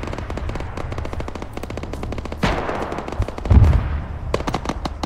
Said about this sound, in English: Shelling coming in.